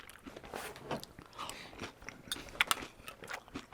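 Someone chews crunchy Green Onion Chex cereal in milk up close, with soft, irregular crunches and bites scattered over a few seconds at low volume.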